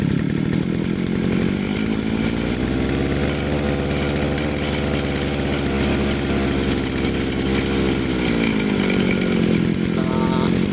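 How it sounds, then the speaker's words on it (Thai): A small two-stroke Chinese TU43 brush cutter engine revs up and down repeatedly, its pitch rising and falling loudly and close, with no talking. "เราสังเกตที่ใบแล้วฟัง เสียงเร่งเครื่องรอบเครื่องแล้ว"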